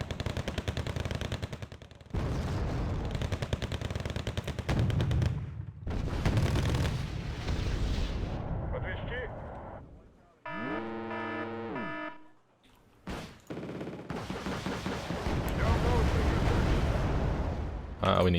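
Wargame: Red Dragon battle with artillery and gunfire, dense rumbling barrages and booming impacts across most of the stretch, broken by a quieter pause with tonal unit sounds, and someone talking over it.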